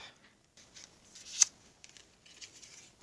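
A die-cutting machine cuts white paper with a small smooth scallop die: quiet, scratchy crisp cuts and rustling in short bursts, with one sharper snap near the middle.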